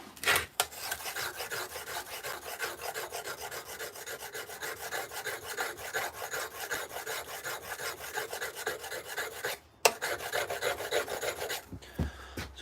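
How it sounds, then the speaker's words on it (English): Continuous rhythmic rasping of a wood-carving chisel being sharpened, with fast back-and-forth strokes, close and fairly loud, broken by a short pause near the end; no speech. "I'm just going to sharpen the chisel quickly."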